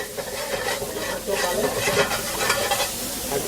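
Chopped tomatoes sizzle steadily in a hot pan, roasting with a dense continuous frying hiss and faint stirring scrapes, close and fairly loud throughout.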